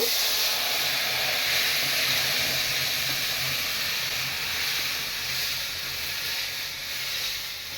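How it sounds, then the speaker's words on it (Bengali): Blended hog plum peel added to hot mustard oil hisses and sizzles steadily and loudly throughout, a continuous frying sound that fades slightly toward the end. "এগুলি তেলের মধ্যে দিয়ে দিব"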